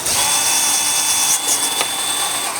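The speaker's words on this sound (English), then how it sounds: "Come right along the side and drill the holes." A close, loud power drill runs without pause, drilling holes along the side of a plastic soda bottle, its high whirring motor grinding steadily with a couple of brief changes in load.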